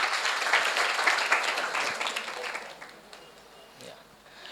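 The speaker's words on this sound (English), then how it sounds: "A big round of applause for all of you all." Audience applause at a student get-together, a dense burst of many hands clapping in a hall that gradually thins and fades away over a few seconds, with a brief murmur near the end.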